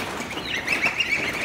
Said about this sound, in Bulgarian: Цяло стадо гъски, дето съскат.